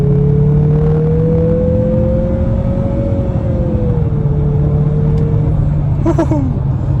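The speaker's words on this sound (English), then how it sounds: "Stepping out right here on the gas." 2023 Mazda CX-50 Turbo SUV accelerating hard on a highway, engine tone rising steadily then easing off as it shifts, under loud road rumble from inside the cabin, with a short voice near the end.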